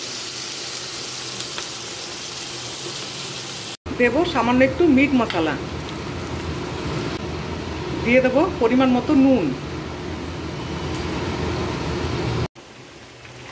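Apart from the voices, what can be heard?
heavy rain falling outside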